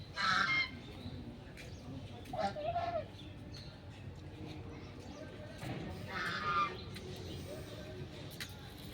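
Swan-like geese of a hill species honk in a few separate bursts, moderately near, outdoors in a temple ashram garden, with a person talking softly in between.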